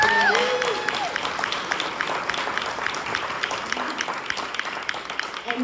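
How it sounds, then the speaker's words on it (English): An audience at a formal dinner event gives a round of applause, a dense patter of many hands clapping that starts loud and gradually thins out, with a few voices underneath. "would you give them a round of applause for doing that?"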